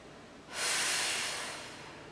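A single long, breathy exhale during a Pilates move, starting abruptly, close and fairly loud, then slowly tapering off.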